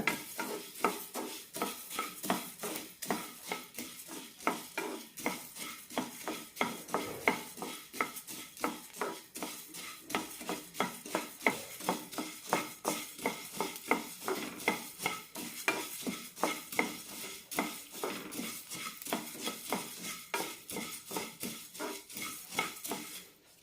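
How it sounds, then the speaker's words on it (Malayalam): Dry coriander seeds being roasted in a pan and stirred continuously, giving a steady, close rattling scrape of seeds against metal with a faint sizzle and no talking. "മല്ലി നന്നായി ചൂടായി കിട്ടിയാൽ മതി കളറ് മാറണ്ട"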